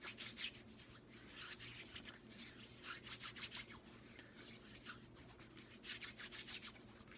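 Hands rubbing isopropyl alcohol in, a faint, soft rhythmic swishing and rubbing in repeated strokes, close and quiet with no talk.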